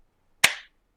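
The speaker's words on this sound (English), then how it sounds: "Slow clap." A single sharp hand clap, loud and close, with a short decaying ring and nothing else around it.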